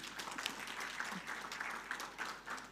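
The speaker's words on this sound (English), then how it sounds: "So I think our entrepreneurs deserve a round of applause," Steady applause from a crowd at a foundation EdTech fellowship kick-off event, a dense wash of clapping that holds at an even level throughout.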